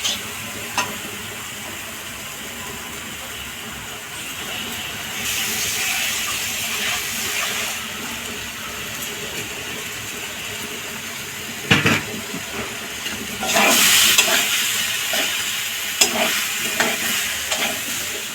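Marinated mushrooms and ground capsicum fry in a pan with a continuous sizzle, broken up by intermittent spatula stirs and scrapes, close and fairly loud.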